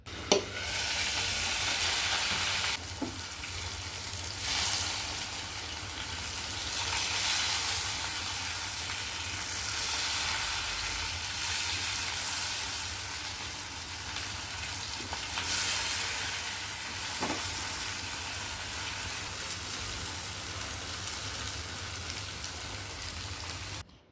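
Slices of ash gourd fry in a pan over medium heat with a steady, close sizzle like light rain. Occasional soft clicks and stirring scrapes come through the crackle.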